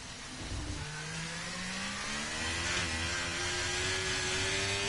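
Racing car engine on a lap in a sim racing game, revving and climbing steadily through the gears, a rising whine that stays loud and continuous.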